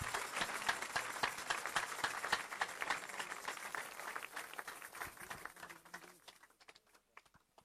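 A church congregation claps and cheers in praise of the Lord, dense crackling applause filling the room and gradually thinning out toward the end.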